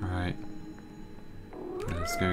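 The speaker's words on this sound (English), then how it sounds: "Let's go get the cat." Cat meowing in the video game Life is Strange: Double Exposure, a short rising meow heard between bits of talk.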